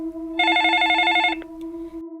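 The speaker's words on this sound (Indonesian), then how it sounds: "tiba-tiba nerima telepon dari adiknya yang namanya Erna" A telephone bell rings in one sustained burst of about a second, loud and bright over a steady background hum, then cuts off, leaving the hum running alone.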